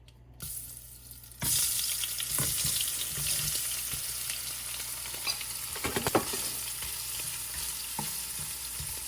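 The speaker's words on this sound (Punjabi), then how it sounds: "ਆਪਾਂ ਇਸੇ ਘਿਓ ਦੇ ਵਿੱਚ ਥੋੜੇ ਜਿਹਾ ਪਨੀਰ ਨੂੰ ਫਰਾਈ ਕਰ ਲਵਾਂਗੇ 2 ਮਿੰਟ ਦੇ ਲਈ" Paneer fries in hot ghee for a Punjabi capsicum and paneer sabzi. After a quiet start, a loud, steady sizzle takes over, with occasional stirring clicks and scrapes over the crackle.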